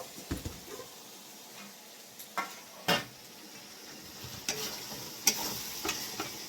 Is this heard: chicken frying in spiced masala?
yes